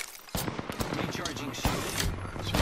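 Gunfire in the battle royale game Apex Legends, a sudden volley of sharp shots and rapid bursts that starts abruptly and keeps going, loud and close, with game voices and effects mixed in.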